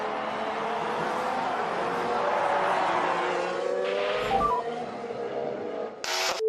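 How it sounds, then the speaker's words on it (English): Lewis Hamilton's 2018 Formula 1 car locks up at turn 1 and runs wide over the runoff and grass. Its high engine whine holds steady and then shifts pitch, with faint tyre scrubbing and a short crackle under the roar. "Hamilton locks up and goes deep and off into the runoff area and over the grass at turn 1"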